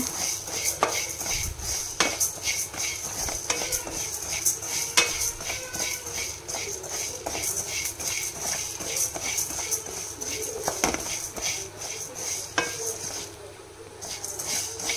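Coriander seeds are stirred and fried in a metal pan with a spoon that scrapes and clinks rhythmically and steadily, close up over a faint background hum, with no talking.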